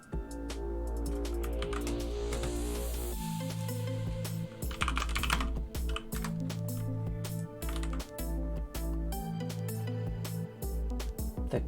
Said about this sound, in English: my keyboard a little loud?